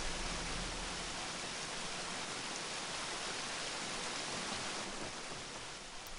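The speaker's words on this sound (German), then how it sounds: "wenn es gerade wieder laut war an den Wasserfällen" A waterfall in the video game Gothic rushes as a continuous, even wash of broadband noise, steady and fairly faint, with no voices over it.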